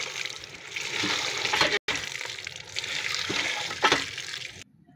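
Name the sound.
washing freshly picked leafy greens in running water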